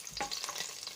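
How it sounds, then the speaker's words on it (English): Garlic frying in oil while a spoon stirs it for a vegetable soup, giving a soft, close sizzle with a few light scraping strokes over about one second and no voices. "I've added the oil and some garlic in. Just going to give it a mix here."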